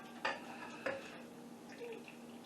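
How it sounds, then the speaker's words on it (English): Melted butter being added to muffin batter in a mixing bowl: two clinking knocks of a utensil against the bowl, followed by soft scraping and a faint liquid pour, close by and quiet. "Now we're going to add some melted butter."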